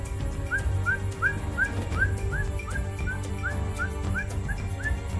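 A person whistles an imitation of a ferruginous pygmy owl call: a steady series of about a dozen short, evenly spaced rising notes over a constant low background hum.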